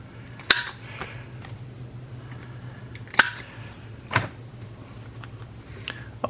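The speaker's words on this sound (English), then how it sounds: "I always round the corners with our corner rounder" A handheld corner rounder punch snapping through the corners of paper book-page tags, three sharp clicks spaced a few seconds apart over a steady low hum, close and fairly loud, with no talking.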